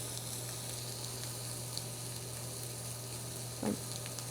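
Shrimp fry in a pan while fresh pasta is being made, giving a steady close sizzle with a constant low hum beneath it and one brief stir or clatter near the end.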